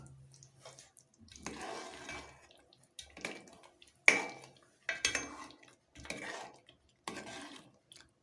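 Nawabi chicken masala being served out of the pan, a few quiet, separate clinks and scrapes of a spoon against metal, with one sharper knock in the middle and pauses between.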